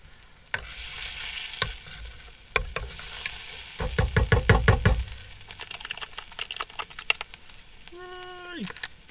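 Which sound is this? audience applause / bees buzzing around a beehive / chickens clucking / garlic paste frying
garlic paste frying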